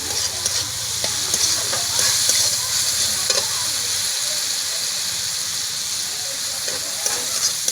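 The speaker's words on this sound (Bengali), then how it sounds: "কাশ্মীরি লঙ্কাটা দেওয়ার পর দু একবার নাড়াচাড়া করে" Fried spice paste with Kashmiri chili powder being stirred in a pan, with a steady hiss and sizzle and scraping stirring strokes close up; a low hum fades out midway, leaving the frying sound alone.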